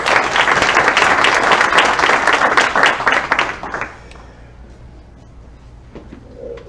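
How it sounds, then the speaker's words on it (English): Audience clapping for a county supervisor at a housing summit, a loud full round of applause that fades out after a few seconds into quiet room tone. "Would you please join me in giving the supervisor a big round of applause?"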